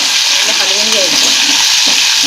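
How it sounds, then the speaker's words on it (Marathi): Tomatoes fry in hot oil with browned garlic in a pan while being stirred for a spicy Bombay duck curry. A loud, steady sizzle with a faint clatter of the stirring spoon runs throughout. "हलवून घ्यायचं"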